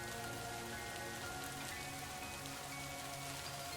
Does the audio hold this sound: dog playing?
no